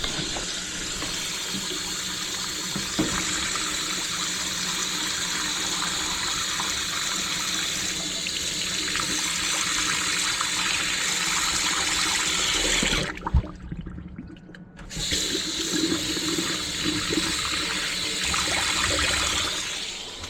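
Water rushes steadily through a drain packed with sludge, a loud, continuous gushing flow that cuts out briefly for about two seconds before resuming.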